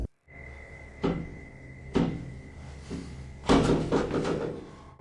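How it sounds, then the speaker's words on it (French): Regular knocking sounds in a hallway, a few distinct hollow thuds about a second apart with a heavier cluster of knocks near the end, over a quiet background hum. "il entend des bruits de coups réguliers dans le couloir"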